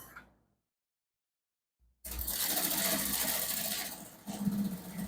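Sewing machine stitching trouser lining starts up after a brief silence, running in a fast, steady mechanical whir close by, then slowing with a few heavier clunks at the end.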